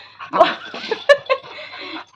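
A dog from Nagaland gives a few short, close barks and yips with whiny, whimpering tones between them, loud and uneven over about two seconds.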